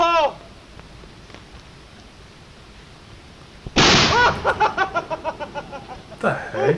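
A Filipino bamboo cannon (lantaka) fires with one sudden loud close boom that rings and fades over a couple of seconds, with people laughing and talking before and after.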